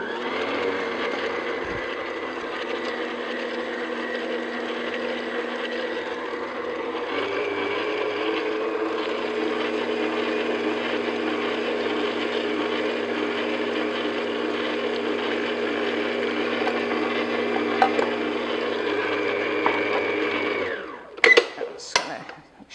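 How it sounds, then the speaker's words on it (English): An electric mixer beats cold cream into cream cheese frosting with a steady, loud whirring drone that holds for about twenty seconds, then shifts in pitch partway through and stops with a few clatters at the end. "So what I'm going to do is just beat the cream in and have it cold, beat it in gradually"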